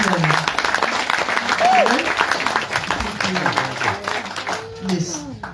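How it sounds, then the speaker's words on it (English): Audience at a book launch gives Lynn a round of applause, a crowd of hands clapping steadily with voices and a few calls mixed in, fading toward the end as talking rises. "Nice round of applause for Lynn."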